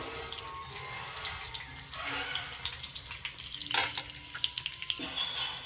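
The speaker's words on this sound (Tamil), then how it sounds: "ஆயில் வந்து ரொம்ப நல்லா சூடானதுக்கு அப்புறமா கடுகு உளுத்தம் பருப்பு தாளிக்கிறதுக்காக போடுறோம்" Mustard seeds and urad dal splutter in hot oil in a kadai, tempering for a Tamil potato fry: a steady close sizzle broken by sharp, irregular pops and crackles.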